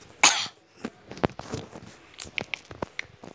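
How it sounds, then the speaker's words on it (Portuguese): A person with flu coughing: one sharp, loud cough up front followed by a string of smaller throaty coughs and clicks, close and unaccompanied by talk. "Porque eu tô com muito tosse."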